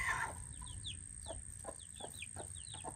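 Chickens clucking in a backyard garden, a series of soft, quick clucks and chirps at close range over faint background noise, with no voices.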